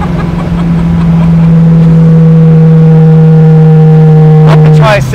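A 1974 AMC Javelin hot rod engine holds a loud, steady droning rev close by, then cuts off abruptly before a brief voice.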